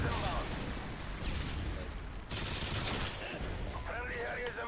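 Rapid gunfire from Call of Duty Modern Warfare 2, played on PS3, comes as dense close bursts of shots. A player talks over the shooting.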